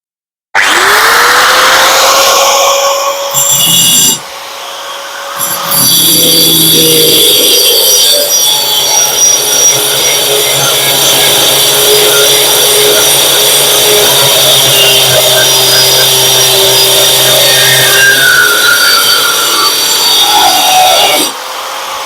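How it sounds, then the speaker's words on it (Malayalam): A power tool with a blade cuts through a small piece of wire, a steady, loud grinding-sawing whine running for about twenty seconds with a brief pause and restart near the start. "നമുക്ക് ചെറിയൊരു കമ്പിത്തുണ്ട് അറുത്ത് വെക്കാം"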